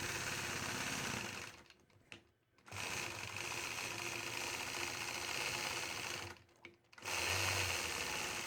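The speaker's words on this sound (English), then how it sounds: "I'll complete this design by stitching in the ditch all the way around the outside of the block" A sewing machine machine-quilting a Starz quilt block, stitching in the ditch around its outside edge: a steady, fast whirring hum that runs nearly the whole time, breaking off in two short pauses before resuming.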